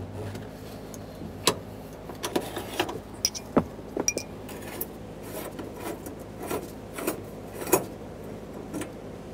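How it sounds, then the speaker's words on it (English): Pry bar levering a fuel pump lock ring counterclockwise on a 2010-2013 Kia Forte Koup 2.4L, a run of scattered metallic clinks, scrapes and knocks at close range. "The pry bar is going to go in between these, and that's what we're going to use for leverage to be able to spin this counterclockwise to remove it."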